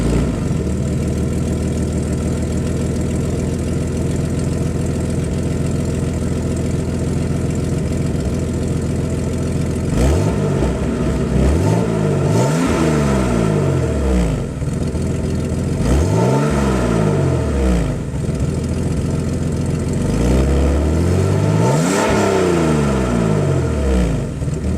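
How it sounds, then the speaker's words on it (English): Cheap BMW engine with a MagnaFlow exhaust that has a leak, idling steadily, then revving hard in three or four loud bursts that rise and fall, close by with no talk. "It also has a MagnaFlow exhaust with an exhaust leak."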